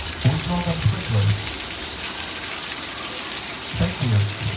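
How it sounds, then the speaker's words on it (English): Artificial rain from sprinklers at Universal Studios Hollywood at night: a steady hiss of falling water, with a voice talking over it at the start and again near the end. "we use all the most advanced, most expensive rain-making technology available in the business. We call them sprinklers."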